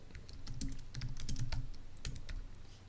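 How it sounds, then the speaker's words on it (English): Someone types a command on a computer keyboard in a quick, uneven run of close, crisp key clicks with brief pauses between bursts. "So I'm going to type in"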